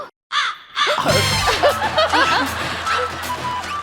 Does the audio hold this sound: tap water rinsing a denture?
no